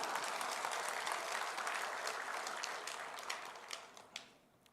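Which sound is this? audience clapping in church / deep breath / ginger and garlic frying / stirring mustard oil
audience clapping in church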